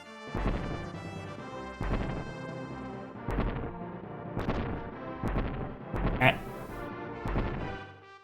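Cannons fire in the video game Kirby Super Star, seven or eight booming blasts spaced roughly a second apart, each a sharp thud with a short rumble, fairly soft in level, with a brief bright chime near the end.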